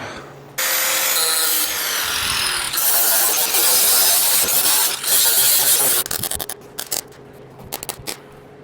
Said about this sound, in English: Let's dial this whole piece in with the grinder.